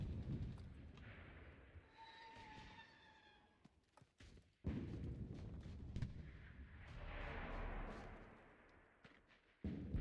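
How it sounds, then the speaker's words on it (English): A machine gun fires in the online shooter Enlisted, heavy booming bursts and thuds ringing out at a distance among other battlefield blasts, with a loud sharp report partway through. "Big old machine gun letting off over there."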